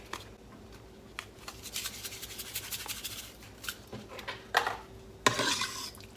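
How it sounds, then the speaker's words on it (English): Shredded beef is stirred in Instant Pot juice with an Italian dressing packet, a utensil scraping and clinking against the pot in irregular wet strokes that grow louder toward the end, close up with no talk. "And then stir."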